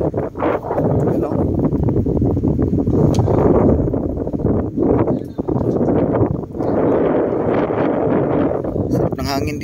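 Strong sea wind on a small island buffets the microphone in loud gusts, with people talking over the blustery rush.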